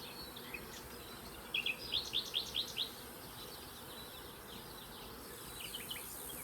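Honey bees buzz around hives where newly caught swarms were settled among other colonies, a faint, steady, dense hum with a short burst of sharp bird chirps in the middle.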